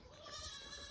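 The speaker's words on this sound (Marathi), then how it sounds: "बकरीचं पिल्लू बघू शकता तुम्ही." A young goat kid bleats in a farm shed, one short, clear, wavering cry heard close up with no talking.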